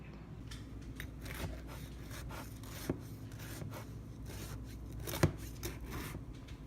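A knife saws through a loaf of homemade banana bread, giving a quiet, steady rasping with soft scraping strokes and a couple of sharper clicks as the blade meets the board.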